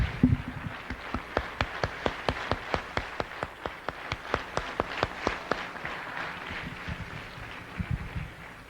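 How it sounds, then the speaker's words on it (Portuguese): An audience at a religious gathering claps, sharp evenly spaced claps forming a rhythmic run of applause, moderately loud, fading toward the end. "Aplauda, por favor, aplauda."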